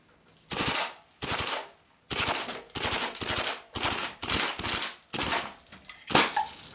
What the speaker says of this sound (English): the Sig Sauer RATTLER. This uses .177 caliber steel BBs. I would classify this as semi-auto, but the cool part is it has 3-shot burst.